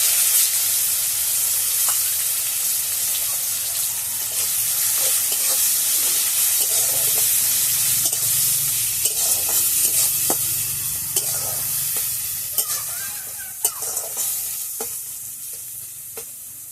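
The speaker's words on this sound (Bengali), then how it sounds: "এবার কুচনো পেঁয়াজটা দিয়ে দিচ্ছি তেলের মধ্যে।" Chopped onion frying in hot oil with cloves and cardamom for a brinjal curry, a strong steady hiss and sizzle with intermittent stirring clinks and scrapes, close up and without talk.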